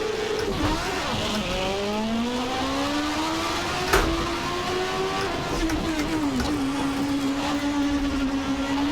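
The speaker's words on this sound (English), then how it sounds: "So this car here, so let's put it in first, rev up, and say the green light goes." A Williams FW15C Formula One car with a CVT gearbox revs up in first gear, its engine note rising and falling in a loud, continuous wail with a sharp blip midway.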